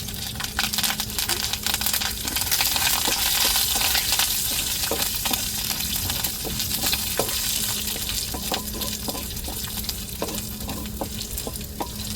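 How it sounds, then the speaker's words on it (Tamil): Small shallots sizzle in hot oil for a Tamil tempering, giving a dense, steady crackle. A ladle or spoon stirs the pan several times with metallic clinks and scrapes. There is no talking. "இப்போ சின்ன வெங்காயத்தை சேர்த்துக்கிறோம் தாளிப்புக்கு"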